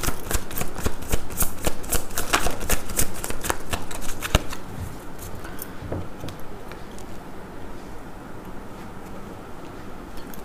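Tarot cards are shuffled by hand in a rapid run of crisp riffling flicks, close and loud, settling into softer sliding and handling as cards are drawn, with no talk over it.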